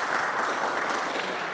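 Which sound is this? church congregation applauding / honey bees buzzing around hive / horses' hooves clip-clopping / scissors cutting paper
church congregation applauding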